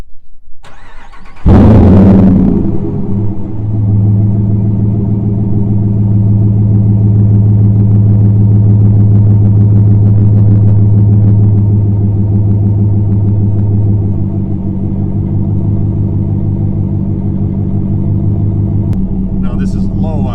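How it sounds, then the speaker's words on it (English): A Ram 1500 pickup with a Borla S-Type exhaust fires up, then settles into a low idle around 500-600 RPM, a deep, even burble heard close to the exhaust and running steadily to the end. "This is low idle, about 500-600 RPM roughly."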